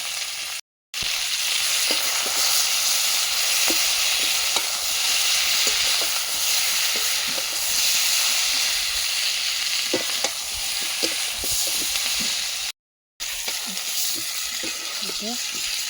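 Ginger-garlic paste with cumin, coriander, chilli and turmeric fries in a pan, a loud steady sizzle running throughout with faint stirring scrapes.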